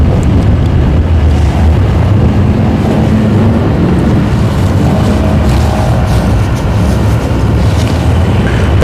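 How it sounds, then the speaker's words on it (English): Strong wind buffets an outdoor microphone at a drag racing event at Orlando Speed World, a loud continuous low rumble with gusting roar that runs without a break throughout. "The wind is blowing right in my face."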